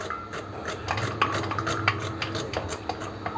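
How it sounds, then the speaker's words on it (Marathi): Okra being finely chopped with a knife on a board, a quick irregular series of sharp tapping cuts close by, with no talking. "आता स्वच्छ मी पुसून घेते आणि सगळी भेंडी चिरून घेते"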